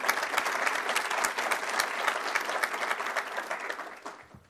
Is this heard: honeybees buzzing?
no